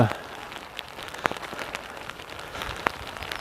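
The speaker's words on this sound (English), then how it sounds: "the rain is getting harder" Steady rain patters on surfaces outdoors during a walk, a dense close hiss with scattered sharper drops and a few louder taps, gradually building in intensity with no talking over it.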